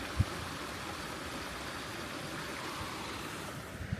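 A stream flows where two streams meet at Swatara State Park, Pennsylvania, a steady broadband rush of moving water close by that stays even throughout, with a soft knock near the start and no talking.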